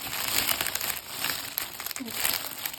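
A parcel holding a cross-stitch project being opened, its plastic packaging crinkling and crackling up close in quick irregular bursts with no speech.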